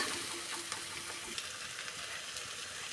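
Rice husli mixture frying in a pan, a steady soft hiss with faint crackles throughout, fairly quiet and with no voices.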